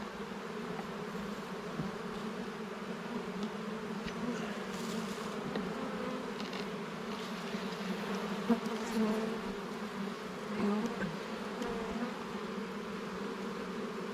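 Honeybees buzzing steadily around an open hive during an inspection, a dense continuous hum that holds the whole time with small swells, close and even, no voices.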